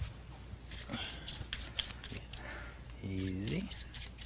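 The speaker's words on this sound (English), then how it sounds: "Can you please shuffle once again?" A deck of playing cards is shuffled at a card trick performance, quick papery riffles and snaps heard close, with people talking over and around them.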